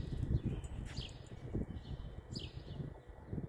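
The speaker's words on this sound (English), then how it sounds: "And then just birds chirping." Birds chirp sporadically in a quiet residential neighborhood on a Saturday morning, a few faint, distant calls over soft rustling and low background hum.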